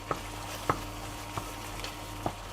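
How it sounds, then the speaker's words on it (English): Creamy mushroom sauce being stirred in a pan, a few separate spoon scrapes and taps at a steady, unhurried pace over a faint sizzle, close and quiet with no talking. "Give it a good stir."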